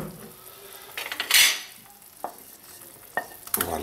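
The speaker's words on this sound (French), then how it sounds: "Demi-heure avant la fin de la cuisson, je rajoute mes champignons que j'ai fait dorer avec mon beurre." Butter-browned mushrooms tipped into a pan of blanquette de veau, a scraping clatter and brief sizzle, then a few sharp utensil knocks against the pan amid a soft simmering hiss.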